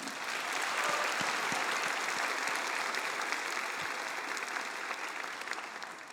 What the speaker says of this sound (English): So let's give a round of applause for Aaron.